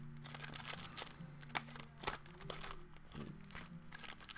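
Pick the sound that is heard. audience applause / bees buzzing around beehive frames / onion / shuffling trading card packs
shuffling trading card packs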